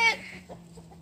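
Red and green hens among bamboo give a short squawk followed by soft low clucks, close by, with no talk.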